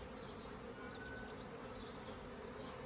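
Honeybees at a hive fill the air with a dense, continuous buzzing drone, steady and close, with individual bees flying past now and then and no talking.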